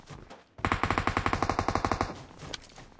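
A Groza assault rifle fires a rapid, evenly spaced automatic burst of around fifteen close, punchy shots in PUBG Mobile, preceded by a quieter lead-in and followed by a fading tail.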